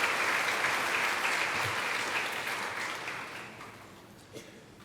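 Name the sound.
church congregation applauding the choir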